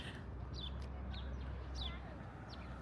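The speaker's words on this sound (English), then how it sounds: "There's a really loud bird right here." A loud bird near a hotel parking lot on Harbor Boulevard by Disneyland calls in short, repeated chirps over a low outdoor traffic rumble.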